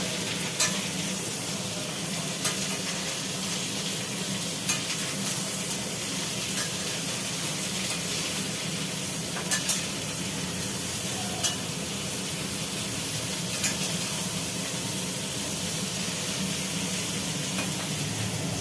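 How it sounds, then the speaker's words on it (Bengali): Drumstick stems fry and get stirred in a pan with nigella seeds, a continuous close sizzle and hiss broken at intervals by light clicks of the spatula against the pan. "একটুখানি নাড়াচাড়া করতেই হবে লেগে যাচ্ছে ডাটাগুলো একটু ভাজি ভাজি না হলে কাঁচা কাঁচা লাগবে"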